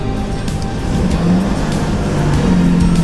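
A truck engine labours in first gear on the road, a steady low droning growl that holds loud and even throughout without speech.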